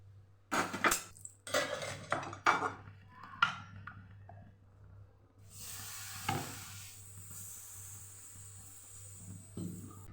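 Metal utensils clink and scrape against a plate as spinach and ajwain chilla are served, with several sharp taps early on, then a steady frying hiss from the pan.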